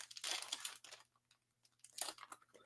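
Foil trading card packs from the Metazoo 2.0 base set are torn and crinkled open nearby, with two bursts of ripping and crackling separated by a quieter pause.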